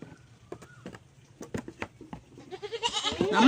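A Tamil farm goat bleats and calls near the end, rising in loudness over quieter scattered knocks and rustling earlier on.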